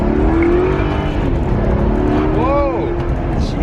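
A Maserati engine, bought cheap at auction in filthy condition, hums steadily up close, its pitch rising and falling with throttle blips and a smooth gear shift, while people talk over it.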